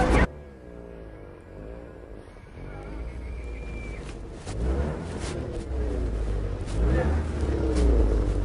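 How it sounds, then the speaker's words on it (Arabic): Car cabin rumble on a drive in Libya, a steady low engine and road drone running continuously beneath people talking throughout. "راكبين في السيارة"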